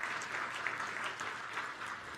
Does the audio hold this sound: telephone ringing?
no